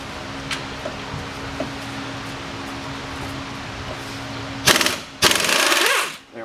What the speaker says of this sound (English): this nut is an 18 millimeter, and I'm going to be using a swivel socket to help get it off